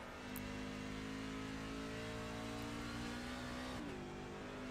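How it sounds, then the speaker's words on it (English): A racing truck engine in a sim racing game holds a steady, high droning rev that dips briefly near the end before climbing again, heard alone at moderate volume. "you can hear that engine"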